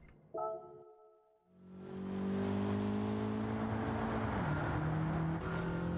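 A race car engine in Gran Turismo during a consecutive-corners licence test. A short tone is followed by the engine revving up into a steady, loud drone whose pitch shifts as it accelerates and changes gear.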